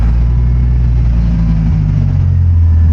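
A car engine, started with a freshly cut key, idles and revs with a loud, deep rumbling drone that holds steady and close, a slight shift in pitch partway through.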